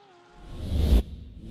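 A GT3 race car in a sim racing game sweeps past at Algarve, rising to a close, loud engine swell that cuts off abruptly after about a second.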